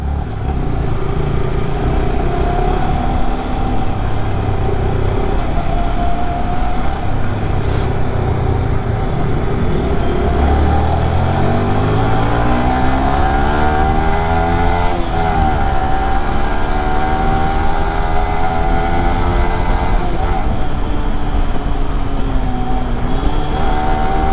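Yamaha R15 V3 motorcycle engine running steadily through a ride, with a continuous loud drone and rising and falling pitch sweeps as it revs up and shifts, no talk over it.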